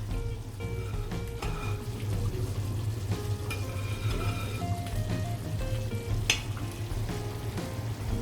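Thick masala paste for Thrissur-style varutharacha sambar hits a hot pan and sizzles steadily, a continuous close frying hiss with soft stirring scrapes and occasional sharp pops, no voices.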